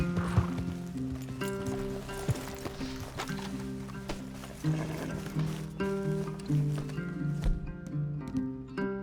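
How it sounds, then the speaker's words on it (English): Horses in the Red Dead Redemption 2 game, a steady clip-clop of hooves over a dense, continuous bed of music and ambient sound, with no clear neighs standing out. "Leave the horses in the trees there."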